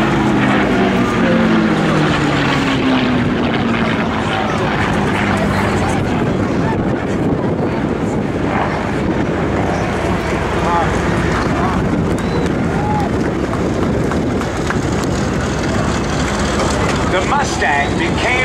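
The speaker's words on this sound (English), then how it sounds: "Merlin V12 liquid-cooled engine on the Mustang." P-51 Mustang with a liquid-cooled Merlin V12 engine flying at an open-house air show, a loud, continuous roaring drone mixed with heavy wind rush throughout.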